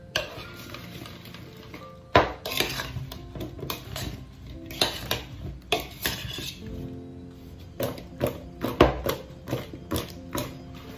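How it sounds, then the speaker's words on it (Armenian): Spices are stirred into potatoes in a dish, giving close, repeated scraping and sharp clinks of a utensil against the dish in an irregular rhythm, with no talking. "Եվ խառնում եմ, որպիսի համեմունքները խառնվեն կարտոֆիլին։"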